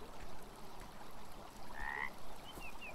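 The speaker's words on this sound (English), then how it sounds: "Thank you, frog." A frog croaks a few times in the video game Beyond Eyes, short clear calls over a steady outdoor ambience of water and wind.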